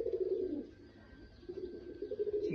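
Chinese teddy pigeon cooing at close range, a low soft repeated coo, with a faint steady background hum and other birds calling faintly.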